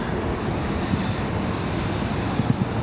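An airliner departing from Raleigh-Durham International Airport, heard as a steady, distant broadband jet roar with a low rumbling undertone that holds even throughout.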